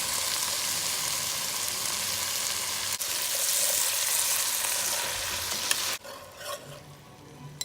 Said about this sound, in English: Next, we're going to be adding the enchilada sauce.